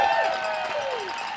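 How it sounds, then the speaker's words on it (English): A crowd at an outdoor March for Democracy rally in Waco cheers and claps in a short, lively burst, with raised voices mixed into the noise. "let's give him a round of applause for his efforts in the Texas House of Representatives"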